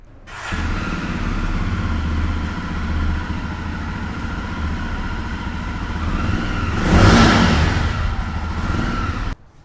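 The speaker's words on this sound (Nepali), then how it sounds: "यसको एकचोटि हामी एक्जस्ट नोट पनि सुन्छौँ" A Yezdi Roadster motorcycle with a 334cc liquid-cooled fuel-injected engine idles with a deep, steady exhaust thump, then revs sharply near the end before cutting off. The bike is loud and close, and no one speaks.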